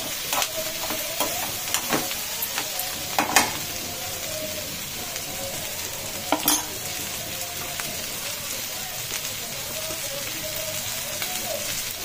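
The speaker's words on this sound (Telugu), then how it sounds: "కొంచెం మంచిగా ఫ్రై కావాలండి" Tomato and okra curry sizzles and crackles in a pan, with steady frying hiss and occasional sharp pops and stirring clinks throughout.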